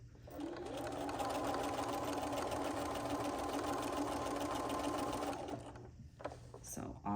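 A sewing machine runs steadily on a long basting stitch, about 1/4 inch inside the seam of a cross stitch pillow with binding, a loud continuous whir lasting about five seconds before stopping, followed by faint handling noises.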